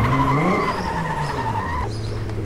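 A car in GTA V skids and drifts around a track, with a sustained tire squeal over engine drone that drops off near the end, leaving the engine note alone.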